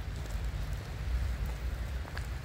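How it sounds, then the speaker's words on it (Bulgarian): Heavy rain falls in a steady, dense hiss with a low rumbling wash, continuous and close throughout, with no voices. "Заваля дъжд, яката"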